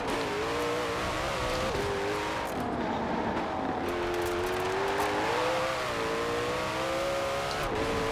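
A 2020 Koenigsegg Jesko hypercar in Forza Horizon 4 roars steadily and loudly throughout, its engine note rising and dipping with gear changes and revving, with no talk over it.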